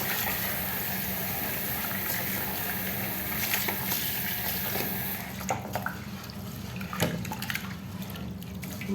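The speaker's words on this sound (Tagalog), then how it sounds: "hugasan na natin ang bigas. Isang hugas, pangalawang hugas" Rice being washed in water in a pot, soft sloshing and swirling with intermittent drips and light splashes, fairly quiet and close, with a few louder pours toward the end.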